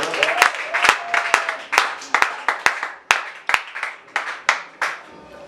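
Congregation at a church service clapping loudly in acclamation, a series of sharp, irregular claps close by with crowd voices faintly underneath.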